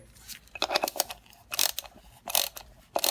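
A drain valve on the fuel filter housing of a Ram EcoDiesel is tightened with a ratcheting tool, close-up clicking bursts in several short groups separated by brief pauses.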